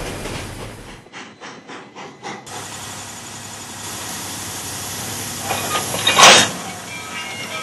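Steam locomotive 2719 on a run between Two Harbors and Duluth, Minnesota: rhythmic chuffing pulses give way to a steady rail rumble, then a sharp loud hiss of steam bursts out near the end.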